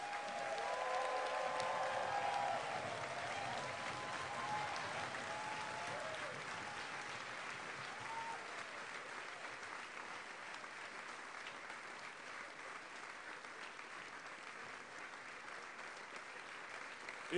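An entrepreneurship forum audience claps steadily for a speaker being welcomed to the stage, loudest at the start and then settling into a sustained wash of applause, with faint background voices and tones beneath.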